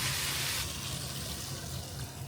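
Three quarts of water pour into a pot holding a turkey carcass with meat, skin and neck for soup, a brief, steady rushing splash that softens slightly partway through.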